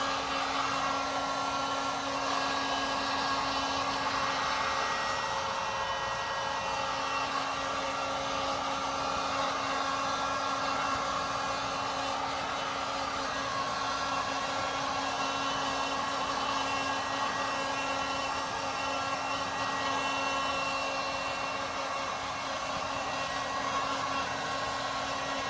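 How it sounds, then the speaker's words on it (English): A heat gun blows a steady, even whoosh without a break as it warms vinyl wrap on a car wheel, held close and fairly loud with no voices. "Always try to lead with the heat gun"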